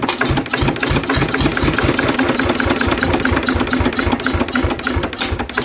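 A Lister diesel engine runs with the throttle pushed open, a loud, close, rapid rhythmic knocking chug that holds steady throughout without voices.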